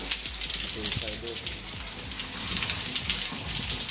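Steady rain in a village pours off rooftops and gushes from the roof gutters, a continuous close wet hiss with splashing, while a voice briefly murmurs underneath.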